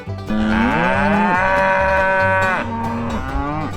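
Loud, close cattle mooing, long drawn-out lowing calls overlapping, one after another, over a low rumbling background.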